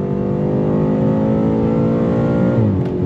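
A 2022 BMW M8 Competition engine revs hard and climbs steadily in pitch under full throttle, loud and close, then eases off briefly near the end.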